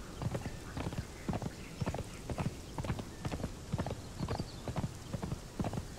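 Horse hooves in the video game Conan Exiles clop in a quick, even trotting rhythm, sharp and close, repeating steadily for the whole stretch.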